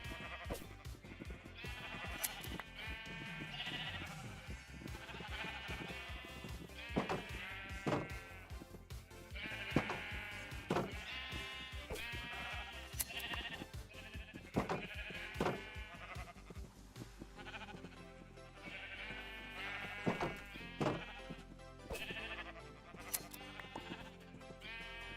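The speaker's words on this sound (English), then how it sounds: "I have all the sheep that I probably need." Many Minecraft sheep bleat over and over, overlapping cries coming close and loud against a steady low backdrop for the whole stretch, with no speech.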